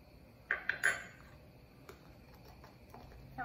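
Play dough ingredients being mixed in a bowl: a few quick clinks of a utensil against the bowl, close and fairly quiet, followed by faint rustling in a quiet room.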